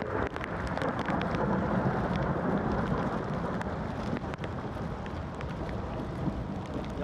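Heavy rain with thunder roars steadily on the Ohio to Erie Trail, low thunder rumbling and gusty wind buffeting the microphone, loud and close, no voices.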